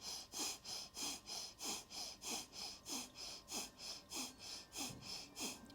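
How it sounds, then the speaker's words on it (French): Breath of fire yoga breathing, a quick regular series of about thirteen forceful nasal exhalations in steady rhythm, close and fairly soft, with no talking. "Cette respiration de feu."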